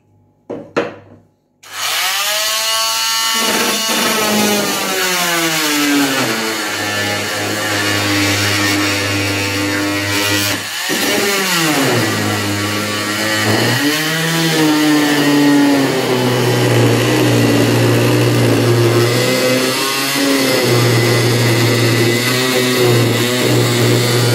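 Kolner KMT300VN oscillating multi-tool with its stock blade cutting through thick 12 mm laminate: a loud, steady buzzing rasp after a brief start, wavering in pitch as the blade bites, with no talk.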